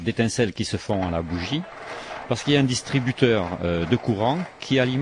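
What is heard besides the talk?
No everyday noises stand out.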